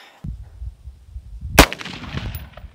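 A single loud AR-15 rifle gunshot fired at an outdoor target cracks sharply near the middle, with rumbling low noise before it and a ringing decay after.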